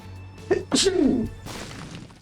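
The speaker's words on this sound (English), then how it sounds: "I'm sorry for the sneezing." One close, sharp sneeze from a man: a quick intake, then a hissing burst and a short voiced tail, followed by a brief breathy sound.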